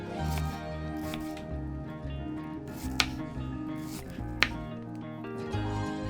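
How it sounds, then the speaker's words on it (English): A knife chopping a diced onion into small pieces on a cutting board, with a few soft, close cuts and two sharper taps over a steady background hum. "Now chop down perpendicular to the vertical cuts and you'll have small pieces of onion."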